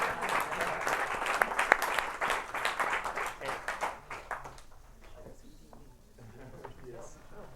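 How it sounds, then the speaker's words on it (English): An audience at GodotCon, a game-engine conference in Brussels, bursts into brisk applause. The clapping is loud and fast for about four seconds, then fades into murmuring and a few scattered claps. "Clap again,"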